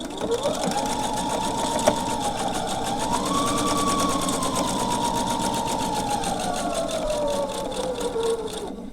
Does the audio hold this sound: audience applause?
no